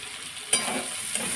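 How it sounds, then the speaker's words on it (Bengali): Ground mustard, cumin and ginger paste dropped into hot oil in a pan for a mixed vegetable greens dish: a quiet hiss bursts into a louder sizzle as the paste lands, then keeps frying steadily with a faint stir. "এরপর দিয়ে দিচ্ছি বেটে রাখা সর্ষে জিরে আর আদা বাটা"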